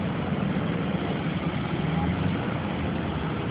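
A small moped engine runs steadily, a constant low drone with little change in pitch, close and continuous throughout.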